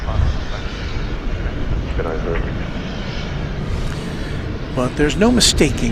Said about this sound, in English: our first tri-jet of the evening now pushing back